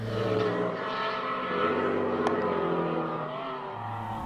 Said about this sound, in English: It has that really nice defined supercharger whine.